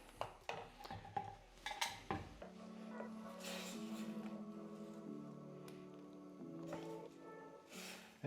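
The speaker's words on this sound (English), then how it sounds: "We're just going to add the rest of our cubed potatoes to the stock pot" Cubed potatoes go into a stock pot of potato leek soup with a cluster of knocks and clatters from the pot and utensils at the start, followed by a low, steady hum and light rubbing.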